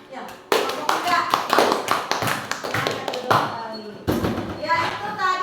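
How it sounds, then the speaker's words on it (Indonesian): Children clapping together in a sixth-grade classroom during an Islamic studies lesson, a dense burst of hand claps that breaks off briefly near the middle and then resumes, with kids' voices mixed into the clapping. "Tepuk tangan buat kelompok 4."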